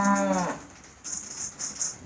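On a wet, muddy farm, a cow lets out one deep, loud moo close by that ends within half a second, followed by quieter shuffling and background noise.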